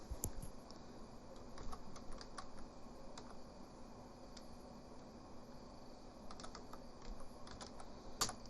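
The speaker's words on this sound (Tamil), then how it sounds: "இப்போது இந்த இடத்துல புதுசாக டேட்டா நம்ம டைப் பண்ணிக்கிறோம்" Typing data into an Excel form on a computer keyboard, with soft, irregular key clicks and a few sharper taps over a faint steady hum, close and quiet, with no talking.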